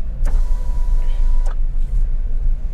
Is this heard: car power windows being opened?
yes